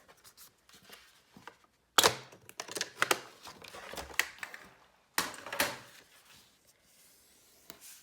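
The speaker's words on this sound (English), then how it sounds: "I'll fold that in half" Scored card is folded in half on a Martha Stewart folding board, with sharp crisp snaps and papery rustles, two louder bursts of creasing between quieter handling, close and alone.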